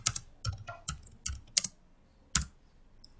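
Keystrokes on a computer keyboard while a question is typed into a Word document, coming in short uneven bursts of clicks with pauses between, close and fairly quiet, no voices.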